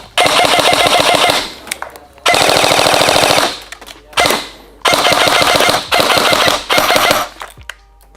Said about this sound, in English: We'll do a couple more shots.